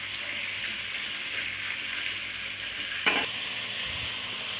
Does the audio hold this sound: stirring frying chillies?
yes